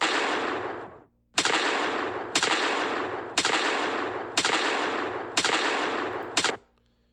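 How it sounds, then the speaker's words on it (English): Six loud, sharp gunshot blasts, each followed by a long roaring tail that fills the gap before the next, spaced about a second apart. "can now see we've got a little more impact with our shooting gun now"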